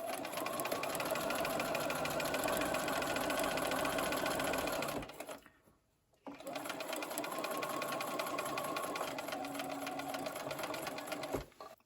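A sewing machine chain-piecing triangle quilt squares hums in two long steady close runs with a brief quiet break between them.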